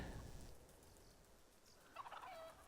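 Chickens cluck in the Planet Zoo video game, a short burst of fowl calls over steady low background noise, with brief brighter clucking near the end.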